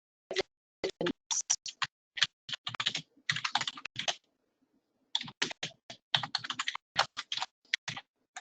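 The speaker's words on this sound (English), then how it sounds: "I'm going to type." Quick bursts of typing on a computer keyboard, clicking in irregular runs with a brief pause in the middle, close and clear with no talking.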